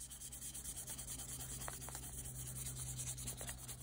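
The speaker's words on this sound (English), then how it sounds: "sanding it with 1000 grit sandpaper just to give it a little extra shine" Steady, soft rubbing and scraping of 1000 grit sandpaper against a carved wooden bear, a close, continuous hiss with a few faint tapping ticks.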